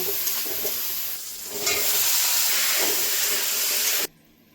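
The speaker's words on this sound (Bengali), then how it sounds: "মশলার সঙ্গে মাছগুলো একসঙ্গে ভেজে নেব" Shrimp fry with spices in a pan in a Bengali mixed vegetable prawn dish, a loud, steady hiss of sizzling oil that dips briefly and then cuts off abruptly near the end.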